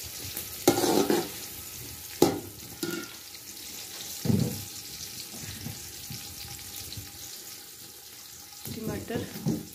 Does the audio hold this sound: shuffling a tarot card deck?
no